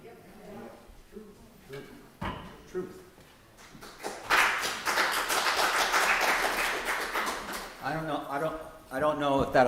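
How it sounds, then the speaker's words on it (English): Applause from the audience at a Christmas tea, a broadband burst of clapping swelling midway and running for several seconds between stretches of talk. "I don't know if that applause was for Reed's story or that Glenn's coming up or..."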